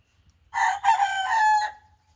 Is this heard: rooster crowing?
yes